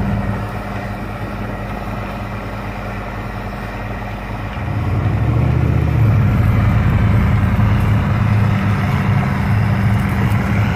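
A 1981 1086 tractor of 130 horsepower disking soybean stubble, its diesel engine droning steadily, then swelling louder and deeper midway as the load builds, close and continuous with no talk.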